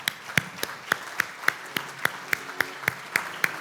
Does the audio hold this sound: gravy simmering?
no